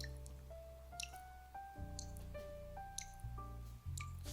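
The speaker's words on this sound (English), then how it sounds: "The hot water drips slowly through the freshly ground coffee." Hot water drips slowly through freshly ground coffee in the Cafe Enchante video game: soft, faint droplets over gentle, stepping melodic chimes, with no speech.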